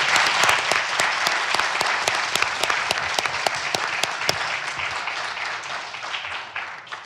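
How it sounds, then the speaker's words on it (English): A conference audience applauds panel members and speakers, a full, bright wash of many hands clapping with sharp individual claps standing out, fading gradually over about seven seconds. "So if we can give a big round of applause."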